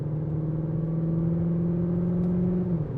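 A 2024 Cupra Formentor Hybrid VZ accelerating in Cupra mode puts out an artificial engine sound, a loud, steady low hum with a gently rising pitch, heard from inside the car with no talk.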